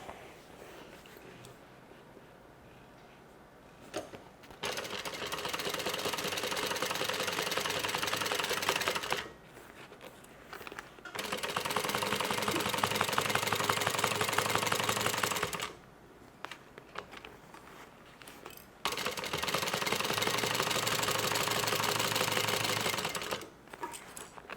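A sewing machine stitching tote bag pieces together with a narrow seam runs in three long, steady bursts of several seconds each, with short pauses between them and no talk.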